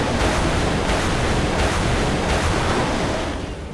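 A Waterfall water attack in Final Fantasy X unleashes a loud, continuous roaring rush of water. Noisy surges swell and fade slightly in intensity before tailing off at the end, with no voices.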